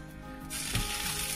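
Large, plump prawns dropped into a hot pan with coarse salt for a seafood fideuà burst into a loud, steady sizzle after a quiet start.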